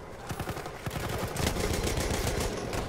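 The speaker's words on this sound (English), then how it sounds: "Oh, that's flak fire." Flak fire in the World War I shooter Battlefield 1, a rapid run of sharp repeated bursts turning into a dense, steady barrage.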